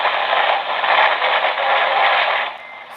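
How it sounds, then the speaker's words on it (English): Loud, steady radio static hiss from a shortwave receiver during poor solar and geomagnetic storm conditions, continuous and unbroken before dropping in level near the end. "very lot of static noise"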